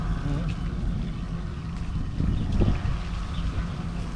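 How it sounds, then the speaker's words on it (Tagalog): Steady wind rushes and buffets the microphone outdoors, a constant low roar with a few louder gusts. "Sarap ng hangin dito no?"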